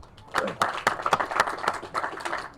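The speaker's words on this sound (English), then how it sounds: "Let's give them a round of applause." Audience applause at a groundbreaking ceremony for a new high school in Palm Beach County, a moderate burst of scattered hand claps that starts abruptly and stays steady and fairly close throughout.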